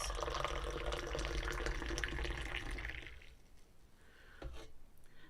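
Moroccan tea pours steadily and splashes between glass and teapot for about three seconds, then stops, followed by a few faint clinks and a brief second trickle.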